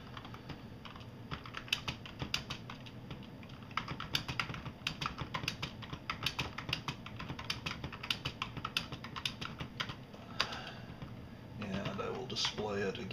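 Short program being typed on the computer keyboard of a machine running an Apple I-style monitor ROM for the 6800 processor: steady, quick clicking keystrokes in irregular bursts, fairly close, with a brief pause and a louder clatter near the end.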